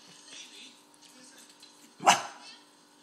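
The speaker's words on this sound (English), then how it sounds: "What are you barking at?" A single sharp dog bark rings out close by, set against a quiet room with faint voices murmuring in the background.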